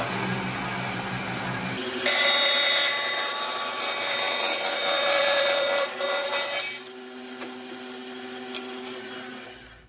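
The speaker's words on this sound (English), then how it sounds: "This is a Laguna Tools Resaw King blade, and I've had really good luck with cutting with this blade." A bandsaw fitted with a Laguna Resaw King carbide blade cuts through wood, giving a loud, steady whining rasp that starts abruptly after a quieter motor hum and dies back to a low running drone near the end.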